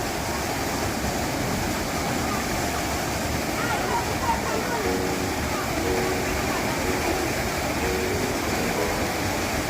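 Rupshi waterfall in Bandarban roars as a steady, dense rush of falling water, close and loud throughout, with a voice speaking over it.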